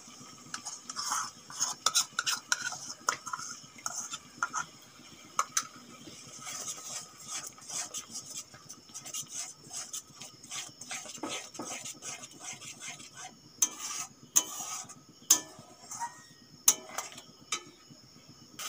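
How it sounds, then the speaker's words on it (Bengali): Spiced potato curry masala with yogurt is stirred in a pan, heard as quiet, close clinks and scrapes of a spoon against metal in an irregular rhythm over a soft sizzle. "টক দই দেওয়ার পরেও কিছুক্ষণ কষিয়ে নিয়েছি"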